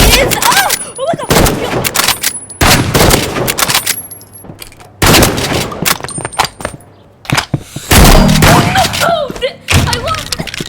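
Shotgun gunfire in the video game Rivals: loud repeated blasts in irregular bursts, close and punchy, with excited talking between and over the shots.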